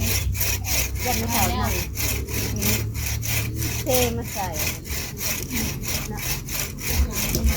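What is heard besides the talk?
saw cutting wood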